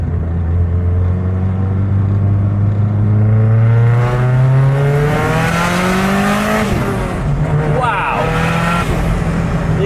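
A Toyota Caldina GT-T wagon accelerates hard with a loud, rising engine note that climbs steadily, breaks at a gear change, then pulls again, heard from inside the car with people talking and reacting over it.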